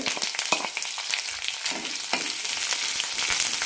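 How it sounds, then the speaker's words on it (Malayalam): Small shallots, sliced lengthwise, sautéing in a pan with curry leaves, dried chillies and fenugreek seeds: a bright, continuous close sizzle with occasional stirring scrapes, with no talking. "നന്നായി വഴറ്റാം. ഉള്ളി ചെറുതായൊന്ന് ചുവന്ന് കിട്ടണം."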